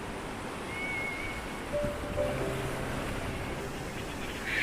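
Sea waves washing onto a rocky beach at Flamborough, Yorkshire, a steady broadband surf wash with wind noise, fairly even and moderately distant, no talking.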